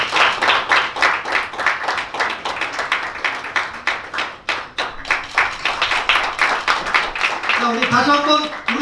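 An audience at a fashion show claps in sustained, rhythmic applause, loud and close, with a voice speaking near the end.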